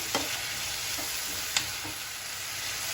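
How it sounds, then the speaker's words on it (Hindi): A whole bulb of garlic, ten to twelve cloves, fries in a pan with a steady sizzle, punctuated by a couple of sharp stirring clicks. "पूरी 1 गांठ है ये लहसुन की, 10-12 कलियां हैं इसमें, और इसे भी अच्छे से भून लेंगे"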